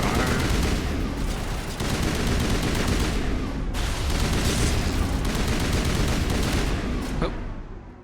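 Sustained video-game gunfire from Mass Effect, with dense, rapid bursts of shots and booms layered almost without pause, loud and close, and a voice briefly audible underneath.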